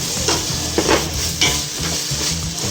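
Onions sautéing in a pan for spicy chicken dum biryani: a steady, close sizzle with repeated scraping stirs of a spoon against the pan, no voices.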